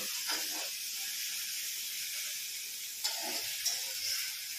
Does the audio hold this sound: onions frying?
yes